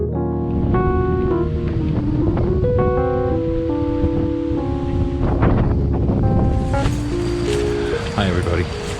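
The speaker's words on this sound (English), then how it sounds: "Very windy." Strong wind roars across a seaside campground by the North Atlantic at Hither Hills State Park, Montauk, a constant loud buffeting rush with surf underneath, while tonal sounds and voices come and go on top.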